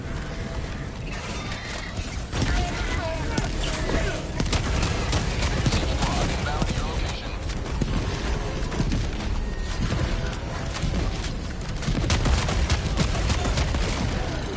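Turret gunfire in the video game Helldivers 2 rattles on in dense, continuous bursts with heavy booms and mechanical clatter, loud and close, with a voice talking over it.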